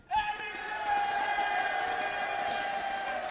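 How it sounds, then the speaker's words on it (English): A crowd at an esports arena during an EU LCS Summer Split 2016 League of Legends match, Schalke 04 versus Unicorns of Love, bursts into a loud cheer that swells quickly and holds steady, with whoops over a sustained roar. "now your first cheer was from a crowd that literally cheers from anything"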